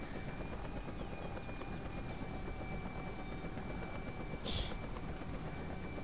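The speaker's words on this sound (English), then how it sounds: "Especially a Cobra attack chopper." Cobra attack helicopter in flight, a constant rumbling rotor drone with a steady whine running through it and a brief sharp noise near the end, no talking.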